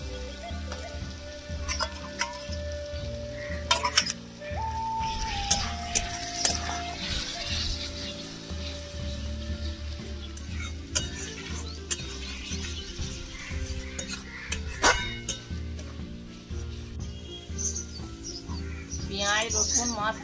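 Onion, garlic and masala fry for a mutton curry in a village kitchen, sizzling steadily with stirring scrapes and clinks while someone talks over it and birds chirp in the background.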